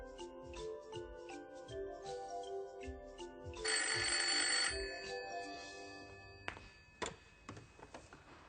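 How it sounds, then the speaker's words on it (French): A telephone rings once in a steady electronic burst for about a second, heard in a quiet room after soft tapping sounds, followed by a few clicks and thumps as the receiver is handled. "On te demande au téléphone."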